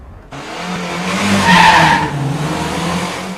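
A Mark II Ford Fiesta skids with a loud, sustained screech that swells and fades over a few seconds, over an engine drone, with no talking.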